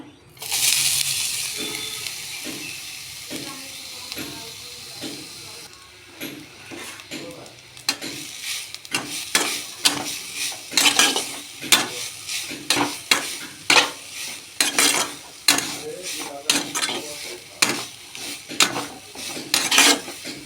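Chopped papaya tipped into a hot pan and frying, a bright sizzle at first, then steady frying under frequent spatula clatter and stirring against the pan.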